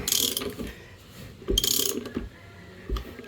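Coarse-thread screw grinding into wood with a power driver, in bursts of ratcheting, gritty mechanical whirring, fairly close and moderately loud.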